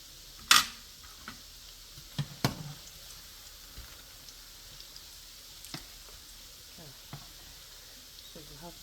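Dumplings or buns cook in a pan with a soft, continuous sizzle and scattered ticks and pops. One louder clack comes near the start, and the sizzle runs steadily underneath.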